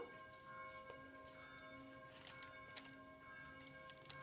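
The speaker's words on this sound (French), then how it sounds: "Les cloches de mon village sonnent." Village church bells ring in the distance, their sustained tones hanging over soft ambient noise, faint but clear throughout.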